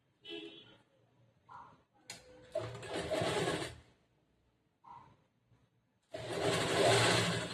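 A sewing machine stitches a star-shaped blouse neckline in short bursts, buzzing loudly for a second or two and then stopping, with someone talking quietly between the runs.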